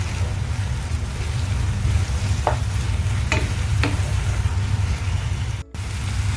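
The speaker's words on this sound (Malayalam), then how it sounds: "ഇനി നമുക്കിത് ഒന്നുകൂടെ നല്ലപോലെ ഒന്ന് വഴറ്റിയെടുക്കാം." Green chillies and curry leaves sauté in a pan for a fish masala, giving a steady close sizzle with a few light scraping stirs of a spoon.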